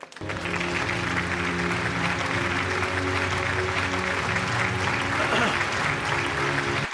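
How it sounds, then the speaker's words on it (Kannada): A large audience at the Chittara Star Awards ceremony breaks into loud, sustained applause for about seven seconds, with steady dense clapping and a tonal musical bed underneath. "ಜೋರಾದ ಚಪ್ಪಾಳೆ"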